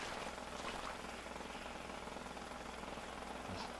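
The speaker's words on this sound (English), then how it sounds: "I hear somebody drilling." A steady, grinding drill or jackhammer-like roar fills a house interior in the GTA 5 video game, running continuously at moderate level without pause.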